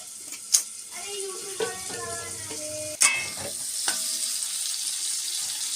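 Eggplant slices frying in a home kitchen pan, a steady oily sizzle running throughout with a few sharp clinks of utensils, while people chat over it.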